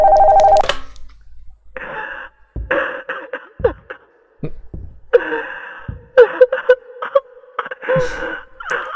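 A telephone rings from upstairs in a horror video game, a trilling electronic ring at the start followed by shorter bursts. Gasps, whimpers and other vocal sounds from a person break in between the rings.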